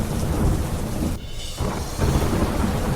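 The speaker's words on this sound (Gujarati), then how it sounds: "અરવલ્લીના મોડાસામાં વરસાદ" Heavy monsoon rain pours down in Modasa, Aravalli, a dense, steady hiss broken by deep rolling thunder that briefly dips and then swells again, loud and close, with no voices.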